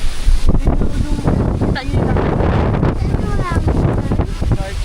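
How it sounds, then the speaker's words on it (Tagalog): Strong storm wind roars and buffets the microphone continuously, loud and gusty, with a voice faintly calling out beneath the rushing noise, during a move of two large boats. "nakikita niyo ang lakas ng hangin"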